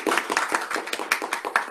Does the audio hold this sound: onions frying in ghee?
no